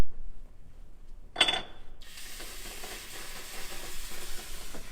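After a fire is put out, steam hisses loudly and steadily. A sudden sharp burst comes first, then a broad, sizzling rush that carries on through the rest of the clip.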